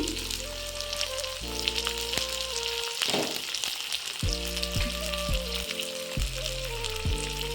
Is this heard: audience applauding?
no